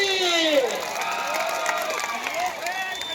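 A crowd at a traditional kusti wrestling bout during the Narayangaon village fair cheers and claps for wrestler Sikandar Shaikh, a dense, steady roar with loud shouting voices riding on top throughout.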